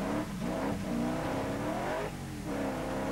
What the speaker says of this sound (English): He slithered off through the gravel trap and then had to gun the engine to get back on the road.